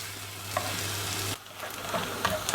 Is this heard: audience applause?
no